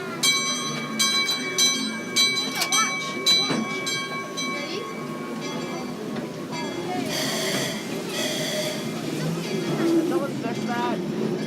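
Calico mine train pulling out with its bell ringing, repeated clangs over the rumble of the rail cars, heard from on board with faint voices around.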